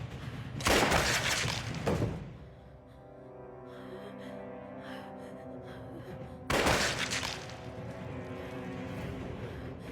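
Two long bursts of rapid gunfire, like automatic weapon fire, crackle loudly, separated by several seconds of quieter background noise.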